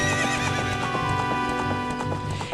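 Epona, the horse in the video game Ocarina of Time, gives a loud whinny over steady clip-clop hoofbeats and bright game music.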